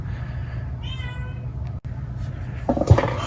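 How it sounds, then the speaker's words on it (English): A cat meows close by indoors, a few drawn-out calls with a louder burst near the end, alone with no talking. "as I was trying to say before the meowing began again"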